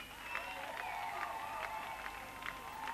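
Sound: audience applauding at festival concert

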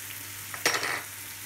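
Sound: vegetables frying in coconut oil

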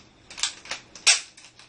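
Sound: Nerf gun firing foam darts

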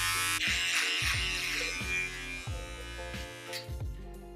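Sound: electric razor shaving

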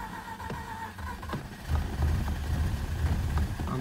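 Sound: Mazda RX-8 low-compression engine struggling to run

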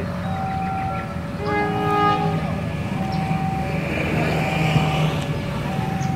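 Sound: diesel locomotive train arriving

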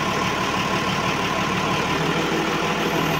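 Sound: Massey Ferguson tractor engine idling at a well-drilling rig

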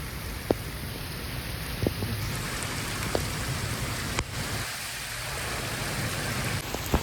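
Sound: heavy rain pouring

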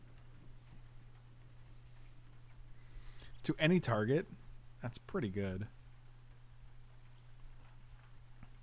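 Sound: rain sounds from the rainymood.com website

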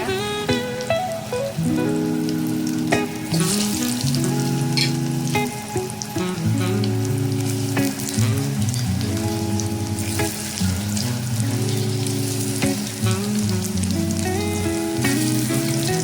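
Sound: aluvadi frying in oil

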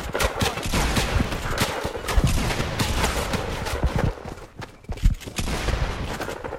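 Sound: turret gunfire in a video game

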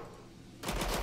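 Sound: gunfire in video game Killing Floor 2

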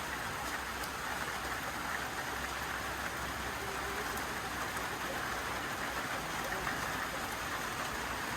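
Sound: rain falling in a Black Sea village

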